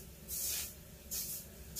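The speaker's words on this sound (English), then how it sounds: "So spray the toilet" Cleaner sprayed onto a toilet in bursts, three sharp hissing sprays in quick succession, close and clear with no talking.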